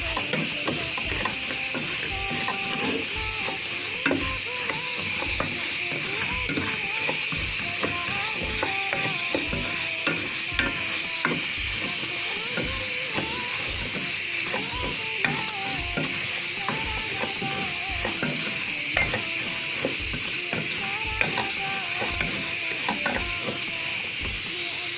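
Rice with vermicelli and a spoon of ground coriander fries in a pan, with a steady sizzle running throughout and rapid, regular ticking and clicking of stirring against the pan, close up and alone.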